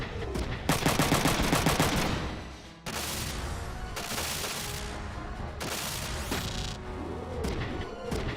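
Turret gunfire in the mecha game Front Mission 3: loud rapid bursts of shots with crashing impacts, repeated in several clusters, no voices.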